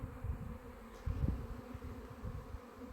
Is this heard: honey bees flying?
yes